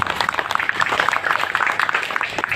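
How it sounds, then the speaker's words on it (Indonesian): Scattered audience clapping at a community gathering welcoming Ramadan in Jembatan Besi, with individual claps distinct and irregular and a little crowd murmur behind it. "Tepuk tangan."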